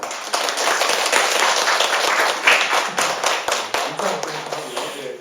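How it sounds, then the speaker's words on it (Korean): Church congregation at a new deacons' training session clapping in thanks for an elder, a dense, steady applause lasting several seconds with scattered sharper claps, close and fairly loud, no talk over it. "장로님 오셨는데 감사의 박수 한번"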